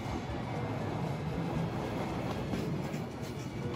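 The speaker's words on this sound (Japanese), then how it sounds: "ゴールドに輝く非常に派手派手な車両が参りましたけど。" A gold-coloured train on the Izuhakone Sunzu Line pulls into a station in Mishima with a steady, fairly loud rumble of wheels and a low, continuous roll throughout.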